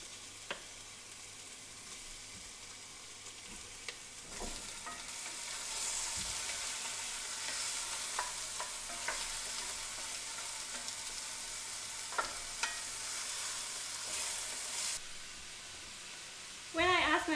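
Onions and oxtail fry in a pan with a steady, soft sizzle, with occasional clinks and stirring knocks, a quiet voice, and a brief loud clatter near the end.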